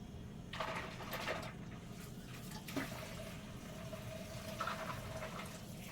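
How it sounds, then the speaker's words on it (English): Kitchen tap left running, a steady, fairly quiet stream of water hissing and splashing into the sink, with a few soft clunks along the way. "So I let my water run."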